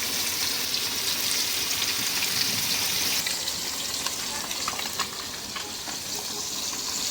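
Rohu fish pieces frying and simmering in a wok for a curry, giving a steady, close sizzle with bubbling and a brief watery hiss that carries evenly throughout, with no talking.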